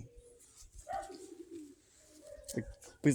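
A pale Crimean pigeon gives soft, low cooing calls up close, a few brief coos scattered between quiet gaps with a voice talking nearby.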